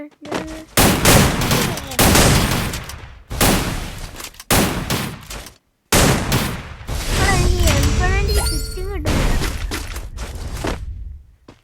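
Bursts of rapid gunfire from the video game Free Fire in Lone Wolf 2 vs 2 mode, loud and close, in several clusters separated by brief pauses, with electronic effects between volleys.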